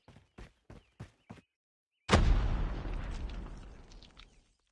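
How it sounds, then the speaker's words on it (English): A grenade in a multiplayer search-and-destroy video game bursts with one loud, sudden boom that rolls off over a couple of seconds, after a few short faint clicks or steps. "Grenade!"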